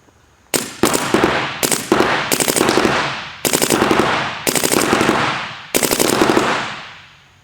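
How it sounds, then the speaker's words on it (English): A brand-new paintball gun fires rapid strings of shots in about five bursts, each a fast run of sharp pops with a fading echo, loud and close with no talk. "75 decibels on this gun, running a string of shots."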